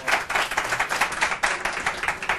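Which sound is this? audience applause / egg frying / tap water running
audience applause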